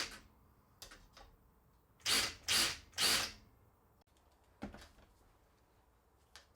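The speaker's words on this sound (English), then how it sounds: "I think if I would just drill a larger hole with a normal drill bit, should help." A normal drill bit enlarges a hole in the metal floor of a bus, three loud, short drilling bursts in quick succession, surrounded by quieter clicks and knocks.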